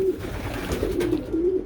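Racing pigeons coo at the loft after a training flight, a few soft, repeated throaty calls heard up close over a steady low background rumble.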